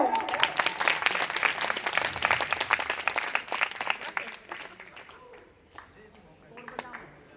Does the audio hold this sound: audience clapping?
yes